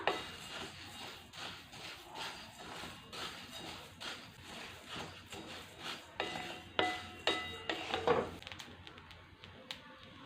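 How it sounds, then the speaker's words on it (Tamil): Coriander seeds dry-roasting in a kadai, with a steady scraping stir and light rattling of seeds against the metal pan, moderately close and fairly quiet. "மல்லியை கொஞ்சம் கொஞ்சமாக கடாயில் சேர்த்து வறுத்தெடுத்துக்கலாம்"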